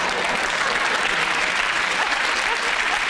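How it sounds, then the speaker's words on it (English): A studio audience at a comedy panel show applauds steadily and loudly throughout, a dense continuous wash of many hands clapping with no pause or break. "Just think about what you're applauding."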